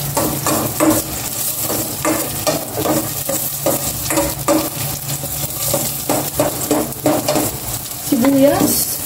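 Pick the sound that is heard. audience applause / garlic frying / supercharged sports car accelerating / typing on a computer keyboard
garlic frying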